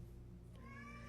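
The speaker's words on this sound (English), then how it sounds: "Sorry for my cat, Dante," A pet cat meows indoors once, a short rising call rising out of a low steady hum, close and moderately loud.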